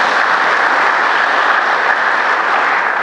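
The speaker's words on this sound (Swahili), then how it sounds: "Mpigieni Mungu makofi tafadhali." A church congregation at Palm Sunday Mass in Christ the King Cathedral bursts into sustained, loud applause, a dense and even roar of many hands clapping throughout with no voices.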